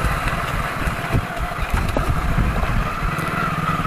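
A 16-year-old Hero Splendor Plus motorcycle runs steadily while being ridden, its engine a continuous low, even drone with a constant rumble and no pauses, close and moderately loud throughout.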